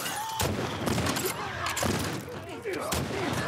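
Gunshots in The Last of Us Part 2, several sharp broadband blasts spaced about a second apart, loud and close amid ongoing game ambience.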